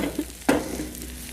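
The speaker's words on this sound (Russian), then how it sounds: "Это же мы картошку жарим, а не яйца." Potatoes frying in a pan with lard, a soft sizzle broken by a single sharp scrape of stirring midway, close and fairly loud.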